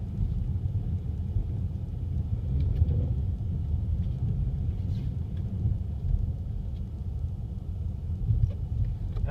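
A car drives through a snowstorm and pulls into a parking spot, giving a steady low engine and road rumble with no talking.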